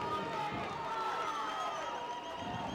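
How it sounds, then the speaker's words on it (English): A steady roar of a high school football crowd at Moanakua vs. Damien builds under continuous play-by-play commentary, the cheering swelling loudly across the stadium as the play starts from the 32-yard line. "Crowd getting into it here."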